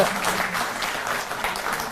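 Loud audience applause for the guests seated on stage at a public event with Delhi's Chief Minister Arvind Kejriwal, a dense steady wash of clapping filling the whole stretch.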